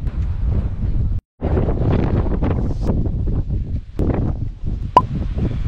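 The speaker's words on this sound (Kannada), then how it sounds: "ಈಗ ಹೋಗ್ಬಾರ್ದು, ಈಗ ಗಾಳಿ ಜಾಸ್ತಿ" Strong wind gusts buffet the microphone on an open hilltop trek, roaring in heavy low rumbles with a brief drop to silence and a sharp click near the end.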